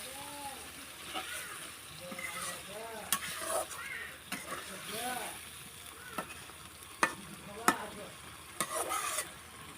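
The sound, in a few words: hilsa fish being stirred and fried with spice paste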